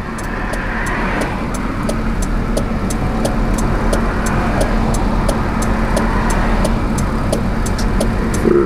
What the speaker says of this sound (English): Several cars coming.